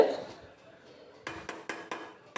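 A spoon or ladle scraping and knocking against a pot while vegetable pulao rice is stirred, giving four or five evenly spaced clinks and scrapes after a short quiet start.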